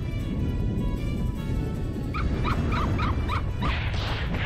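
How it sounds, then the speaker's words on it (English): Cartoonish puppies yip and bark in quick bursts in Disgaea 4, a short run of small bright yaps over a steady bed of game music and effects. "He just summons all the puppies."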